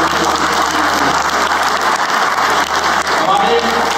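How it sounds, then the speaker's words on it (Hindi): An audience at a skills-education institute applauds steadily throughout, the dense clapping loud and continuous like rain, with some voices mixed in. "बहुत अच्छी सी तालियां बजा दें"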